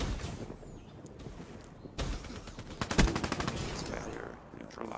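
Rapid automatic gunfire and single shots from Black Ops 3 Search and Destroy, loud bursts with a sharp crack near the middle, mixed with game sounds and faint talk.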